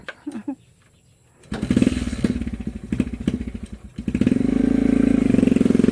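A motorcycle engine idles briefly, then revs up and runs steadily, rumbling loud and close with a rattling, clattery tone.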